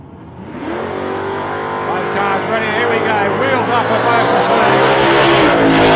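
Drag racing cars at an Australian nostalgia racing meet make a loud pass down the strip near 107 mph, with engines roaring and building steadily over six seconds while an announcer talks over them.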